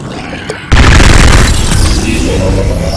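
Gunfire in the video game Garry's Mod erupts suddenly after a quiet start, a loud sustained burst of rapid shots with a booming tail.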